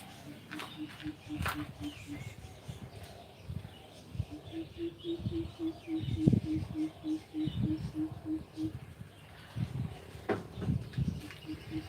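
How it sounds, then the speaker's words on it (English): A low bird call from a small brown bird repeats in a steady series of soft, evenly spaced hoots, with people talking and moving nearby throughout. "Can you hear the bird?"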